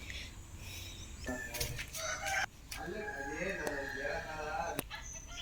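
Rooster crows and hens cluck around a home, fairly faint and in the middle distance, with a brief flutter of wings and people chatting nearby.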